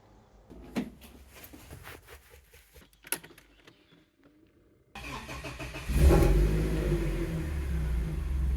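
A BMW E36 engine starts up after some clanking handling sounds, then settles into a steady, loud, rumbling idle close by.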